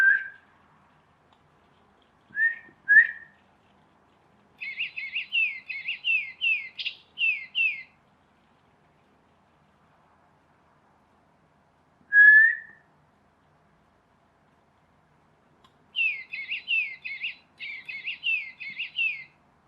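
A person whistles short rising notes and a DigiBird electronic toy bird answers with bursts of rapid, high chirping, trading calls back and forth several times against silence.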